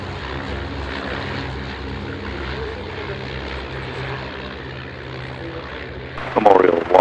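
De Havilland Dragon aircraft displaying at the Duxford air show produce a steady distant propeller drone throughout, with a louder burst of close noise near the end and voices present.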